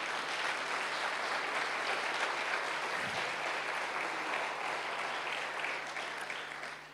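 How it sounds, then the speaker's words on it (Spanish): Church congregation applauding loudly and continuously during a sermon, a dense sustained wash of clapping that fills the whole stretch with no break. "Dale un fuerte aplauso al Rey."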